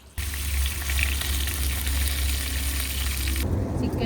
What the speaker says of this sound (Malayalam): അതുകൂടെ വറുത്ത് വെച്ചോ